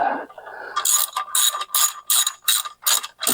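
A ratchet clicks in quick repeated bursts while tightening bolts on a 1967 Chevrolet Corvette clutch during replacement, about seven close, crisp strokes with short pauses between them, no talking.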